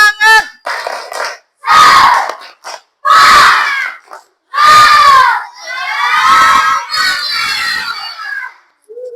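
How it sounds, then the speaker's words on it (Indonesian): A class performs a spirited group chant with rhythmic claps, loud bursts of many young voices shouting in unison separated by short pauses, ending with a sustained cheer. "Tepuk semangat."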